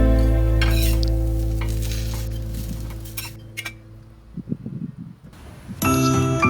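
Paneer dosa batter cooking in oil on a covered pan, a low steady hum giving way to faint, irregular crackles of frying, then a brief clatter and the hum returning.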